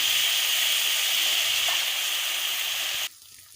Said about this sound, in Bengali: টমেটো বাটা মশলাটাকে কত কিছুক্ষণ কষিয়ে নিয়েছি এবার টমেটোটাও কষিয়ে নেব কাঁচা গন্ধটা না যাওয়া অবধি